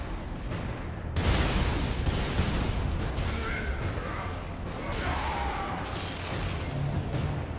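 Gunfire and explosions from the Warhammer 40k: Space Marine video game, with a heavy boom near the start followed by a rumbling wash of distant shots and blasts that stays loud throughout.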